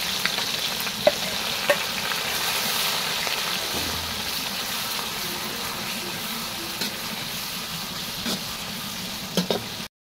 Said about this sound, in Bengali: আদা রসুন পেঁয়াজ ভালো করে কষানো হয়ে গেছে।